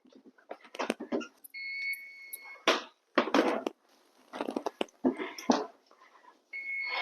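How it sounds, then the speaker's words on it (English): A kitchen timer signals that Danish buns with sweet cheese and blueberries have finished baking, sounding as two sustained electronic beep tones amid clattering kitchen noise, with the second tone cutting in near the end. "Beep, beep, beep, when the alarm goes off."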